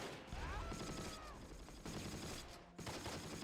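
Distant gunfire from a World War II battle in Close Combat: Wacht Am Rhein at Losheim, quiet crackling bursts of rifle and machine-gun shots under a low background of battle noise.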